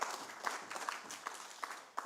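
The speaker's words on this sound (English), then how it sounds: "I think she deserves a bigger round of applause." Faint, distant applause from an audience at a national food security and nutrition assessment launch event, a thin wash of clapping with a few distinct claps standing out.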